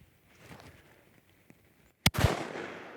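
A shotgun fires at sporting clays on an outdoor Florida range: one sharp, loud blast, then a lingering echoing decay that follows quiet rustling and a faint tap.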